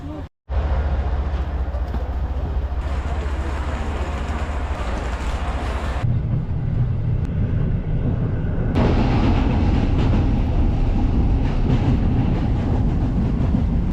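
A passenger train travelling through Poland near the border, heard from inside as a loud, continuous rumble with deep low hum and rail noise, changing in character partway through, with faint voices at times.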